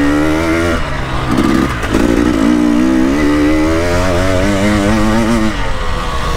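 An enduro motorcycle works through solid ruts at an enduro event, its engine droning and revving with a wavering pitch, plus a couple of brief scraping bursts early on, close and loud with no talking.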